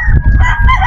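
A Boston Roundhead rooster crows once, close and loud, a short, harsh, strained call with a brief break in the middle.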